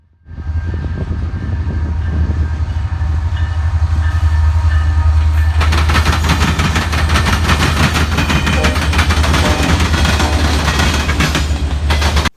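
A CN freight train led by a brand-new Tier 4 locomotive rolls past close by, a loud, heavy diesel rumble building into rattling, clattering wagon noise that continues steadily to the end.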